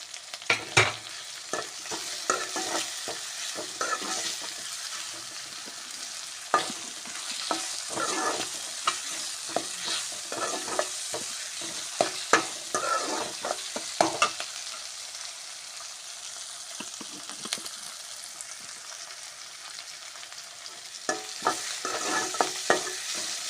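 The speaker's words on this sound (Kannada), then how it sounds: "ಈಗ ಶುಂಠಿ ಬೆಳ್ಳುಳ್ಳಿ ಪೇಸ್ಟ್ ಹಾಕುವ" Crushed ginger-garlic paste fries in a pan with a continuous sizzle and repeated scraping, clattering stirs, close and fairly loud, with no voices.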